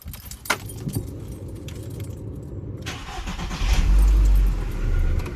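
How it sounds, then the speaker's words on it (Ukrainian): Keys jangle close up, then a car engine cranks and fires, settling into a loud, steady low idle as the starter gives way to running. "Запускаємо для початку двигун."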